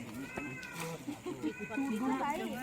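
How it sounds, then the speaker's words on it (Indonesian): A cat meowing insistently, its drawn-out, wavering cries running nearly continuously over a couple of seconds, mixed with people talking nearby. "Kucing."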